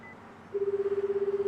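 A phone ringback tone in the video game Chaos;Head Noah, a steady pulsing electronic beep repeating rapidly after a brief quiet moment, clear and close.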